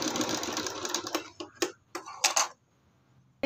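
A sewing machine stitches the hem of a kurti in short close bursts of rapid whirring and ticking, broken by brief pauses, then stops and falls silent.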